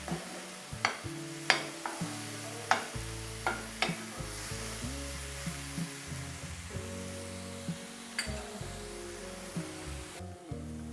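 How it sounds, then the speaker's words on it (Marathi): Ground masala paste for mutton sautés in oil, a steady low sizzle punctuated by regular sharp scrapes and taps of a spatula against the pan, heard close and alone. "जोपर्यंत ह्या वाटणाला तेल सुटत नाही तोपर्यंत हे छान व्यवस्थित असं परतवून घ्यायचं"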